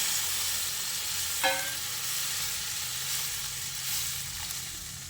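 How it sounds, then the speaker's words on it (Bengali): Water poured into a sizzling pan of egg and potato curry, with a steady hiss of frying throughout and a brief splash and crackle near the start; no voices. "এবার আমি এর মধ্যে পরিমাণ মতো জল দিয়ে দিচ্ছি।"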